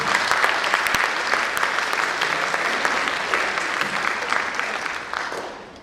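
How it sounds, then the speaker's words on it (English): Steady applause from the audience at a provincial all-candidates forum hosted by the Chilliwack Chamber, a dense even wash of clapping that holds for several seconds before tapering slightly at the end. "Nice round of applause, líya, everybody"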